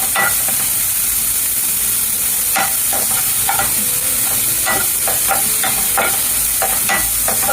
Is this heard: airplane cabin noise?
no